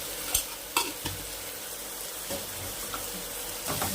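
A spoon scrapes and stirs through Khandeshi-style cluster beans with garam masala and red chilli powder in a pan, a few distinct knocks over a soft steady sizzle, close and alone without talk.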